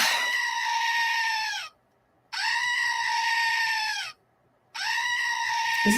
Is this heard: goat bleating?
yes